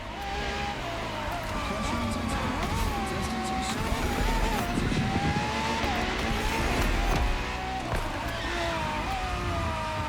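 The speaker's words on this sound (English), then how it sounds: "For this second lap, you'll be driving the FXXK." A Ferrari FXXK, a track-focused LaFerrari derivative, races in The Crew Motorfest with a loud, high-pitched engine scream that rises and shifts steadily alongside tire noise, while someone talks over it.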